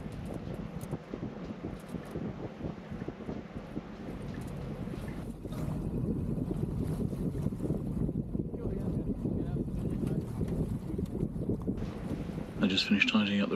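A sailboat heels onto a port tack along the Jurassic Coast, with steady wind buffeting the microphone, water rushing along the hull and a low rumble underneath, rising slightly midway and continuous throughout.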